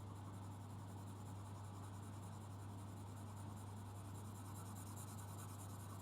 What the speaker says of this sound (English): I am going to color very, very, very light with my HB